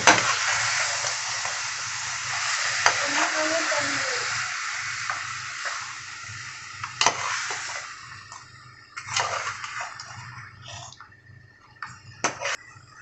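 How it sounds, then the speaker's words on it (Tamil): Mutton sautéing with ground masala and turmeric in a pan, a loud sizzle at first that fades as stirring scrapes and clinks break in, with a voice talking underneath. "மஞ்சளும் சேர்த்துருங்க கொஞ்சமாக வதக்கி விட்டுருங்க"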